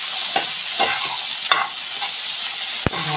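Garlic, ginger and tomato masala frying in hot oil, a bright continuous sizzle with several sharp spatula scrapes and taps against the pan, close by and alone.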